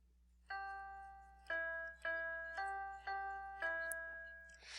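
A keyboard plays a short phrase of Star Light, six sustained tonal notes struck in a steady, even rhythm, each decaying before the next, with a faint hum beneath.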